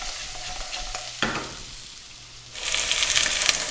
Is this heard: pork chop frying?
yes